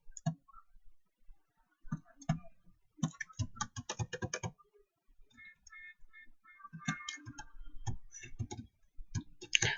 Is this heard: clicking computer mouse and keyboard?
yes